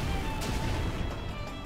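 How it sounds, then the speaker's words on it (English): Magma bomb attack from the Chrono Cross video game, a loud blast of rumbling, crackling explosion with a sharp burst near the start, sustained over game music. "I guess we'll just use magma bomb, that's fine."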